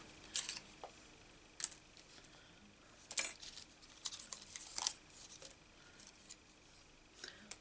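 Scissors cutting out a stamped paper flower pot for card making: soft, quiet snips and crisp clicks spaced about every second or two, close by in a hushed room.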